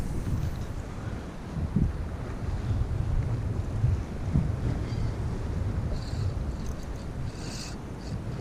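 Wind from the north buffets a microphone on a fishing jetty, producing a continuous low rumble and gusty roar with faint water wash. No speech.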